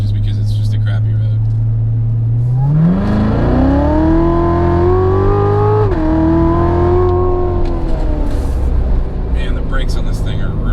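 A C8 Corvette accelerates hard on a rough road, its engine note climbing steadily through the gears with a brief dip at a shift, then pulling again under a steady rumble of road noise.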